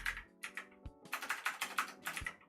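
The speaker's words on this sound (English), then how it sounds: "I am typing in not the right bar" Rapid bursts of typing on a computer keyboard, close and fairly loud, with clustered key clicks coming in uneven rhythmic runs separated by short pauses, and no talking.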